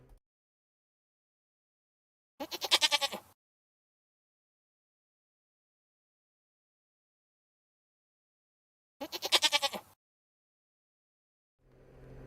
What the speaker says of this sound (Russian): Коза. Еще коза есть.